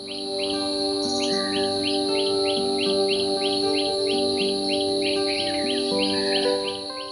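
An Indian treepie calls repeatedly in a steady rhythm of clear, ringing notes, close and loud, with other birds and a constant insect drone in the background.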